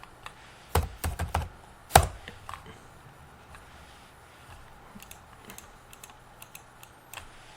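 Computer keyboard typing a radius value, a quick cluster of close, sharp key clicks followed by a few sparse, fainter taps in a quiet room.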